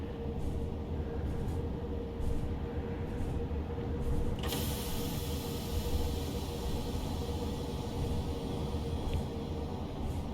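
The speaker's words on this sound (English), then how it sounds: "at the moment we are effectively a runaway train here" Steady low mechanical rumble and hiss of a Class 37/4 diesel locomotive hauling an FNA train from Trawsfynydd in Train Simulator Classic, running as a runaway, continuous and even throughout with a sharper burst of hiss partway through.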